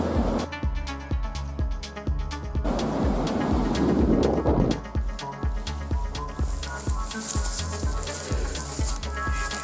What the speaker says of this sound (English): Friggin' wind out here though